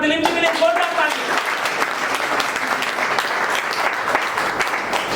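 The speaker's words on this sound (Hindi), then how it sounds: "एक बार दिलीप जी के लिए जोरदार तालियां।" An audience at a business leaders' meeting breaks into loud, sustained applause for a man named Dilip, a thick wash of many hands clapping at close range, with a voice briefly heard at the start.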